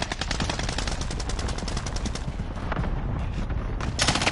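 Rapid bursts of automatic gunfire ring out in a Warzone battle royale match, dense rattling volleys that run almost nonstop, then thin out and return loud near the end.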